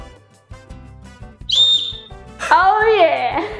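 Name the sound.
whistle being blown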